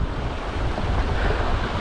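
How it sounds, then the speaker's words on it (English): Rough ocean waves surge beneath strong, steady wind gusting across the microphone at sea, from a jet ski out fishing in nasty, cloudy weather near an old oil rig; a continuous, loud roar with no talk. "Strong wind just picked up out of nowhere."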